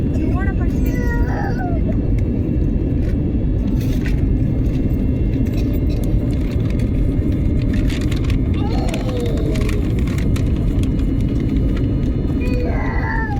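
Airbus A320 engines spooled down to reduced power during a night descent, a steady loud cabin roar with a constant low drone throughout, with faint clicks and rattles over it.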